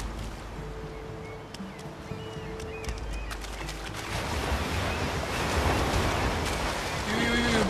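Ocean waves wash ashore on a seashore in the video game Unravel, a broad rushing surf that swells louder in the second half, steady and close, with wind noise mixed in.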